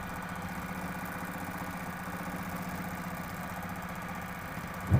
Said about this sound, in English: All I have to do is keep sewing.